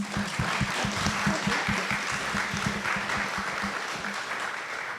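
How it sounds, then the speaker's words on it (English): An audience at a civics education panel discussion claps steadily for the panelists, a dense, sustained round of applause that fades slightly toward the end. "So a round of applause for our panelists"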